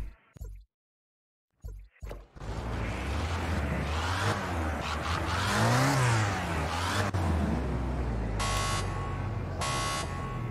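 A race car in Project Cars 2 revs hard at the start of a race. After a few brief stutters, the engine climbs in pitch as the car accelerates and stays loud and steady, while short electronic beeps sound near the end.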